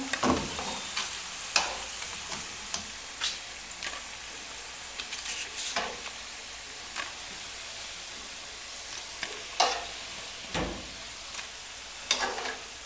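Browned pakoras are lifted out of hot frying oil for kadhi: a steady close sizzle runs throughout, broken by scattered clinks and scrapes of a spoon against the pan, with no talking.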